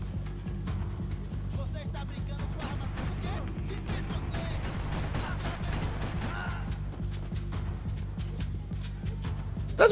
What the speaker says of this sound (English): That's a grease gun!